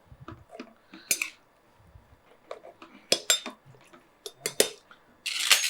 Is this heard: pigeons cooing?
no